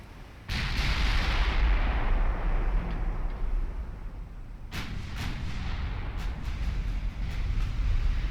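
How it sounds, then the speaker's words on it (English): Nine-inch naval guns fire in the Ultimate Admiral Dreadnoughts warship game: a heavy boom bursts in, rolls into a long rumbling tail, then a second cluster of sharp blasts follows, loud with no voices. "9-inch guns first to fire."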